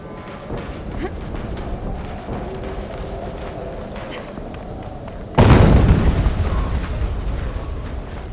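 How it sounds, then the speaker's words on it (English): An explosion in Horizon Zero Dawn Remastered: a loud, sudden boom bursts in partway through over a steady mechanical game background, then rumbles and decays slowly. "An explosion."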